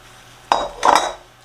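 A loaf pan filled with peanut butter bread batter is shaken twice, two short, close rattling bursts of metal against the counter separated by a brief pause, with no one talking.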